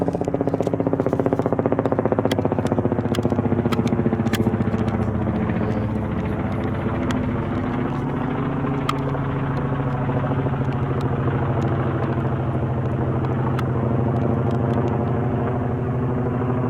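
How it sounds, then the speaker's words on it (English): A helicopter flies overhead, its loud, steady rotor thump and engine rumble filling the whole stretch, close and continuous with no talk over it. "Just a regular old helicopter, no big deal."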